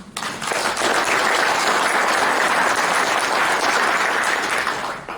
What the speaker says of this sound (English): So give yourselves a big clap.